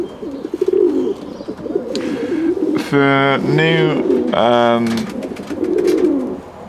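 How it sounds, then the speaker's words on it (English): Straight-tailed fantail doves coo in a nest area, with repeated soft, rolling coos close by and someone talking over and between the calls. "straight-tailed doves are settling in"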